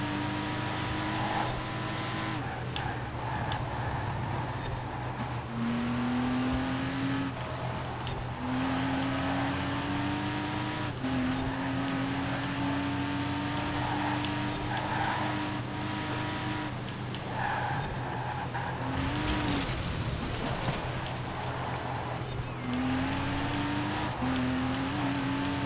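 LEGO Porsche 911 Speed Champions car in Forza Horizon 4, engine revving and rising in pitch through repeated accelerations, with tire squeal and skidding in corners, steady and close throughout.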